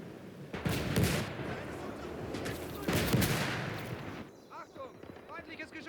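Artillery and gunfire in the WWII game Call to Arms: Gates of Hell: two heavy booming blasts with rumbling tails amid crackling gunfire, followed by shouted in-game voices near the end.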